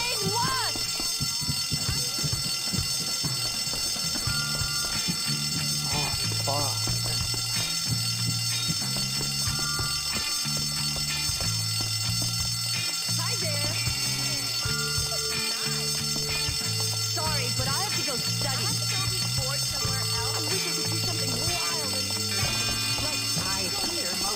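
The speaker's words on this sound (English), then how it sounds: "Pull fire alarm?" A fire alarm in the video game Bully rings steadily and continuously, a dense electronic clamour mixed with game music and sound effects that never lets up.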